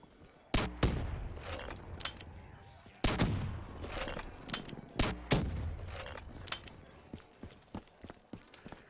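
A grenade launcher in a custom zombies shooter fires a series of loud blasts, each with a booming tail, spaced about two seconds apart, followed by lighter mechanical clicks and smaller pops.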